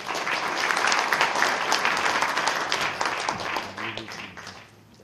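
An audience at a New Year prayer breakfast in a Suwon hotel ballroom applauds to welcome a speaker. The dense, sustained clapping stays loud, then thins and fades toward the end.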